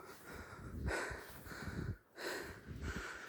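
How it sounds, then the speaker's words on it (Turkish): A person pants heavily while trudging through deep snow in a rural village, with loud, rhythmic in-and-out breaths close to the microphone and a short pause between gasps. "Nefes nefese kaldım."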